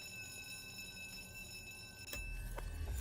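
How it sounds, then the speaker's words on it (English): A faint alarm sounds as a steady electronic tone with a few sharp clicks and thumps near the end. No one speaks. "how do I turn the alarm off?"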